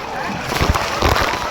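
Water sloshes and splashes in a waterpark swimming pool, with a couple of louder splashes close by amid steady watery wash and voices around.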